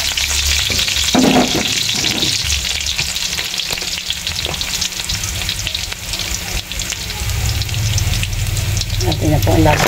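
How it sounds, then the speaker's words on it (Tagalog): Sautéed vegetable dish of banana heart with garlic and seasonings sizzling and frying steadily in a pan throughout, with stirring scrapes and brief bursts, close and loud; a voice speaks briefly. "Nagigisa na po."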